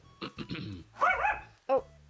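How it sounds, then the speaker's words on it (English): A dog indoors gives several short, sharp barks close by, the first ones in a quick cluster, then a louder whining yelp and a final single bark. "At least bark at the door, I can't get up right now."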